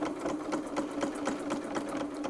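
A sewing machine stitches a decorative petal border quilting pattern, a fast, even mechanical chatter of needle strokes with a steady hum, close and clear with no talk.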